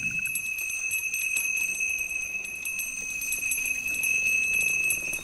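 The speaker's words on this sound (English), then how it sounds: "So what you do is you shake this, and you keep shaking." A magic bell is shaken in the VR game Gnomes and Goblins, giving a steady high metallic ringing and tinkling that carries on throughout without pause, with no talking.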